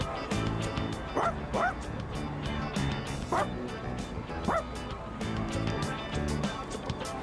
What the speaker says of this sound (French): C'est le chien errant qui poursuivait le garçon l'autre jour.